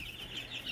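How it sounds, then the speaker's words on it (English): Chickens, bigger birds mixed in with young chicks, cluck and peep softly and continuously in a pen, a steady close chorus without speech. "today I'm going to talk about chickens"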